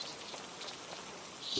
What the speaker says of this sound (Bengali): ভাই বৃষ্টি তো কমছে না ভাই